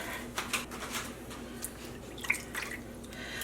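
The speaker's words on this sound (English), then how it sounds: "let's unwrap these blanks directly into our rinse water" Dyed sock blanks are unwrapped straight into a basin of rinse water, giving soft wet drips, squishes and light crinkles, close and quiet with no talking.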